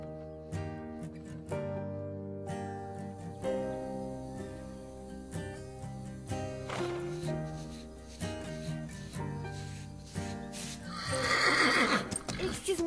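Horses at a ranch whinny and neigh, with hooves clopping in bursts. A louder, rougher neigh comes near the end. Background music plays under the animal sounds.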